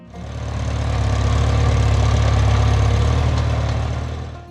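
Allis-Chalmers Model G tractor with a small rear-mounted 10-horsepower Continental engine, running steadily at idle: a close, loud, even low chugging drone that swells in and fades out, with no talk.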